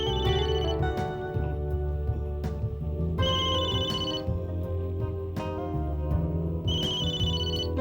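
A telephone rings indoors at night, a looping electronic ringtone melody repeating steadily and fairly loud for several seconds with no talk over it.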